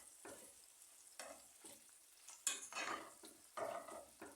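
Liver frying in a pan with a little butter added, a soft steady sizzle with bursts of louder crackling and occasional stirring scrapes against the pan.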